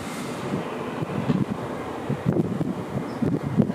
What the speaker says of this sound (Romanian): Bate vântul foarte tare, nu mai rămânem aici sus.